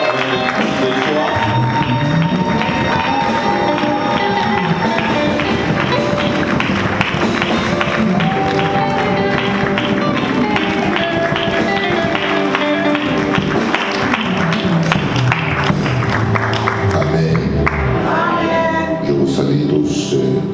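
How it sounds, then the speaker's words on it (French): A church congregation at a worship service cheers and claps loudly and continuously, a dense wash of applause and voices that lasts throughout with no pause. "nous acclamons le Seigneur très fort avec de joie"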